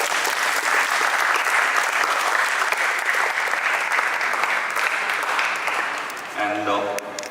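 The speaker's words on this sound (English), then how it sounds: "So give yourself a big round of applause," Finalist teams at a makeathon grand finale receive a loud, dense round of applause that fills most of the clip and then fades as music and a voice come in.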